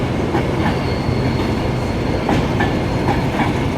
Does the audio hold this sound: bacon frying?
no